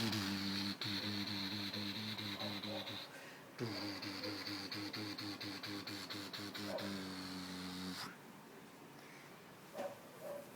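A printer runs with a steady mechanical whir and rhythmic stepping clicks, pausing briefly once, then falling quiet near the end.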